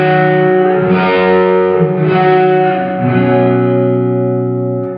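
Electric guitar played through a Sonicake reverb pedal with the mix at maximum, fully wet: sustained chords smeared into a dense, washy reverb tail, loud and continuous with no dry attack, shifting chords around each second.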